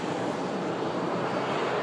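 EasyJet Airbus A320 airliner departing for Lisbon, a steady, broad jet engine roar that holds at constant loudness throughout, close and without any voices.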